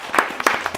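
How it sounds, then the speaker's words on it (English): Brief burst of audience applause at a live tech panel event, a short crowd patter of claps with a few louder peaks, no talking over it. "So make sure y'all give him a round of applause."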